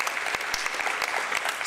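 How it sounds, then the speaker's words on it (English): Steady, dense applause from participants at a ministerial visit event, continuous and fairly loud throughout with no pause, many hands clapping at once. "applause."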